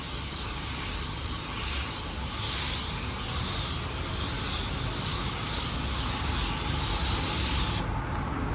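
A spray gun lays down a metallic car paint blend coat in a steady, close hiss that runs almost unbroken, swelling slightly in passes before cutting off at the very end.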